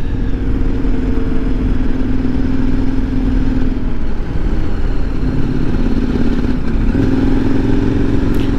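A KTM 1090R motorcycle rides a road down through Bull Creek toward Honeydew in Northern California, its engine droning continuously and loudly with wind noise and slight shifts in pitch.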